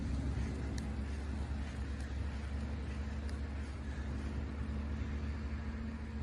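A 1969 Pontiac Firebird's engine idles quietly and steadily, a continuous low rumble with faint broadband hiss, heard alone throughout.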